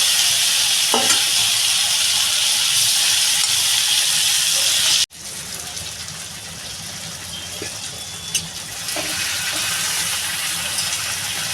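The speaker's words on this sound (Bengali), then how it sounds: "এই যে এই মাছের মাথাগুলো আমার ভাজা হয়ে গেছে" Prawn heads frying in a pan, a strong, close sizzle with occasional stirring clatter that drops sharply partway through, then carries on as a quieter hiss and crackle.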